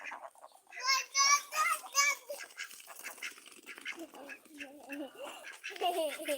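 Nasal quacking from ducks comes in short bursts, mixed with children's voices chattering nearby.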